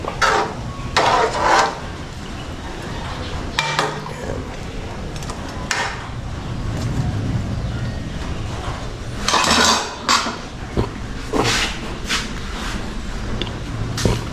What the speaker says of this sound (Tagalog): Haluin natin mabuti para mawala ang lansa